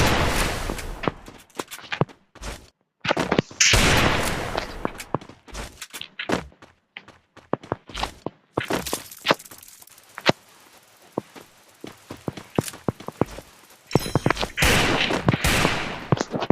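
Bursts of video-game gunfire in a lone wolf shooter match crackle in rapid volleys and single shots, loud and close, with brief quiet gaps and footstep-like thuds between them.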